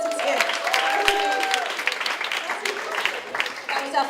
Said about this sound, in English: Big round of applause for our contestants here.